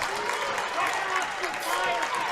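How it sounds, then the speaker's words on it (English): Crowd cheering and applauding at a PIAA District 4 Girls 3A basketball game, Bloomsburg vs. Loyalsock, late in a close contest; a loud, sustained roar of voices and claps filling the gym without pause. "Listen to this crowd here, Jim. Fantastic."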